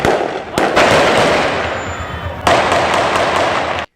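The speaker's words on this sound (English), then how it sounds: "gunshots erupted in the main viewing area" Two sharp, loud gunshots ring out over a noisy crowd in the main viewing area at the Reggae Sumfest music festival, with a steady roar of voices between them.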